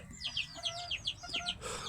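Free-range desi chickens cluck in a quick, fairly close series of short calls outdoors, with no talk over them.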